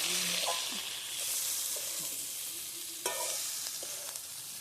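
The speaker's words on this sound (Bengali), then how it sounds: "আবারও সবগুলো উপকরণ বেশ ভালোভাবে নাড়িয়ে চাড়িয়ে মিশিয়ে নিতে হবে।" A spoon stirs potato curry ingredients in a frying pan, mixing them over a steady soft sizzle with scraping strokes and a few clinks of utensil on the pan; no talking.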